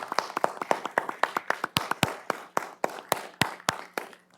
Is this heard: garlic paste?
no